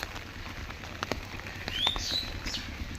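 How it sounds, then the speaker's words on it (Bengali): Light morning rain falling on a market street, heard as a steady soft patter with scattered drops tapping close by, and a brief bird chirp rising over it partway through; no talking. "খুব সুন্দর বৃষ্টি হচ্ছে।"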